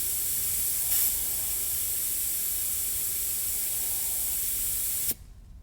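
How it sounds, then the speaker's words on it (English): An air inflator deflates a car tire through a threaded hose adapter, releasing a loud, steady hiss of escaping air that runs unbroken for about five seconds and then cuts off abruptly. "that's the only way you'll get this inflator to deflate a tire is by having something threaded onto the hose"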